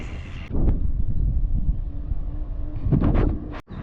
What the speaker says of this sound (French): Alors il y a quand même pas mal de vent là, j'ai le vent de face.